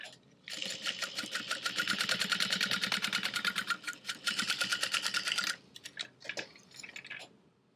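A sewing machine top stitches the sides of a clear vinyl bag, its needle chattering in fast rapid bursts, pausing briefly, then resuming before a few slower stitches at the end.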